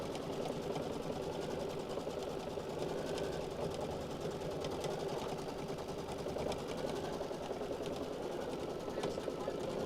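A Brother Solaris Vision sewing machine quilting borders in a steady, continuous mechanical whir with rapid stitching pulses, running throughout at a constant level beneath faint talk.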